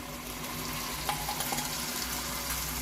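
Bottle gourd yogurt chutney goes into a hot oil tempering in a pan, and the sizzle and frying hiss hold steady and close with soft stirring scrapes.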